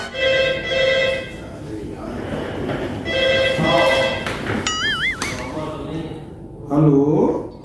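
A telephone rings briefly with a warbling electronic tone, mixed under loud conversation between several people.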